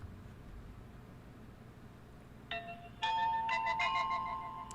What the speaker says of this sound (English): Sorry about that. That was my phone.